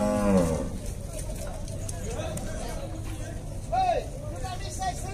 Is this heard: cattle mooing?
yes